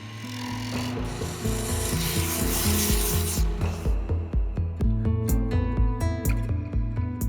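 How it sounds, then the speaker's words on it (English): Lathe spinning a glued cork stack for a fly rod grip: a loud, steady rasping whir that gives way to rhythmic rubbing and scraping pulses, close up with no talk. "Once the glue dries, Bill puts the cork stack on a lathe and takes it for a spin."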